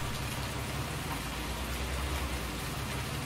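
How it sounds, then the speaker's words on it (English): Steady rain falling in Farming Simulator 19, a dense, even hiss of drops on surfaces that holds at constant loudness throughout, with no talk. "Still plenty of rain around."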